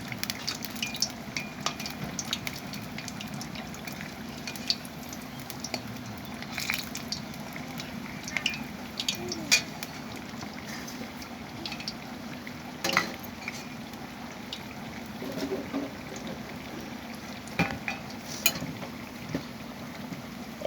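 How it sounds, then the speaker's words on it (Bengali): Squash fritters (chop) fry in oil with a steady, fairly quiet crackle and scattered sharp pops and spatters throughout, heard alone without talk. "এই যে দেখুন বন্ধুরা, কোয়াশের চপ ভাজছি আমি"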